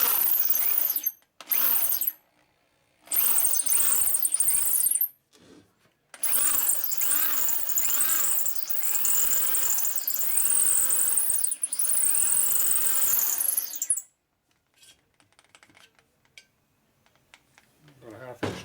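A drill bores into a Harley-Davidson Shovelhead motorcycle engine case, whining in repeated bursts of a few seconds each, with short pauses between, then a longer steady run before stopping and going quiet.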